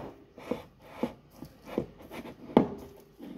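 Ricotta, diced prosciutto cotto ham and parmesan cheese are being stirred together in a bowl for a squash-flower filling, giving soft, irregular scraping and rubbing strokes with a few sharper knocks, close and fairly quiet.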